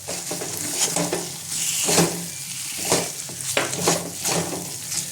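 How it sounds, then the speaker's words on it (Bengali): Green chillies are stirred into masala frying in oil in a pan, with a spoon scraping steadily against the pan through continuous sizzling for several seconds, close and fairly loud, no talking. "কাঁচা লঙ্কা দিয়ে একটু নাড়বো"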